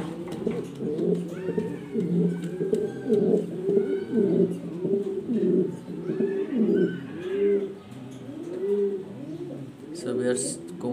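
Domestic pigeons coo in repeated low throaty phrases, several birds overlapping close by, with a brief higher chirp near the end.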